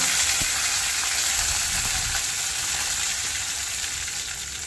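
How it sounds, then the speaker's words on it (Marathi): Curry leaves sizzle in hot oil for a tempering in a pan, a loud continuous crackling hiss that fades slightly toward the end, with no talk over it. "त्याच्यामध्ये ॲड करायचं आहे छान अशी फोडणी दिली आहे"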